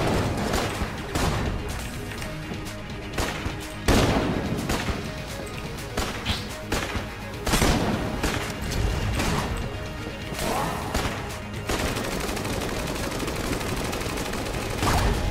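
A gun firing at the Bullet King boss in the game Enter the Gungeon: loud, repeated shots and mechanical clacks with crashing impacts over constant game music, heavier bursts every couple of seconds.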